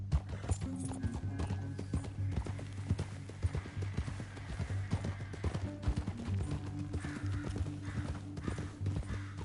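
Rapid rhythmic hoofbeats of a galloping horse in the video game Red Dead Redemption, steady and close, over a low droning background with occasional snorts.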